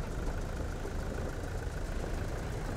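A ground vehicle's engine runs in a flight simulator game, giving a steady, dense rumbling drone that holds at an even level throughout, with no voices over it.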